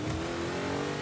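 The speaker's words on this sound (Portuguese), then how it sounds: "Dá pra até escutar a troca de marcha, ó." Car engine in Forza Horizon 5, a Hot Wheels car, running hard and steady at high revs, loud and close throughout with no talk over it.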